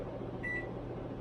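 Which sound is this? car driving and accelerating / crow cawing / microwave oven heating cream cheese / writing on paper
microwave oven heating cream cheese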